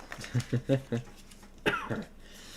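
Several short, dry coughs in quick succession, a pause, then another harsh cough, close to the listener.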